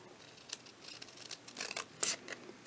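Scissors trimming paper pieces for a fan, a few soft snips and rubbing scrapes scattered over a quiet background, close and faint.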